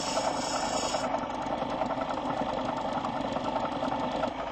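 Kentucky red agate cabochon being ground on a rough lapidary wheel, a steady close motor whir with a gritty, rasping scrape running continuously throughout, no voices.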